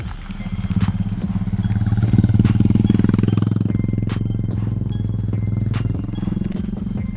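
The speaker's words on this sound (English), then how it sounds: "Bike man come, so you stay on the left side." A motorcycle engine rumbles loudly nearby on a Jamaican road, its low throbbing drone swelling as it passes and then easing off, with faint clicks over the top and no speech.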